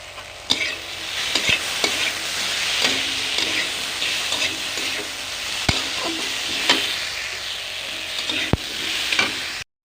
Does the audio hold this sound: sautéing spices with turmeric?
yes